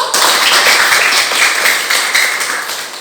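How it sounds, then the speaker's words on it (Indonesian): Sustained dense applause and clapping from a classroom of students, loud and continuous for about three seconds before tapering slightly, with no talk over it. "Ya, tepuk tangan dulu"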